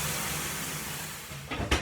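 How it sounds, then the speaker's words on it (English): Steam gushes from an opening kitchen oven as a loaf of bread goes in, a broad continuous hiss close by, ending with a couple of brief knocks and clatters. "Woof, some steam."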